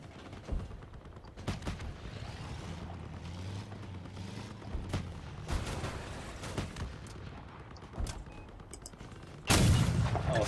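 Heavy 88mm cannon fire from a truck build in the vehicle combat game Crossout, repeated booming shots over a dense battle din, with a loud, close blast near the end.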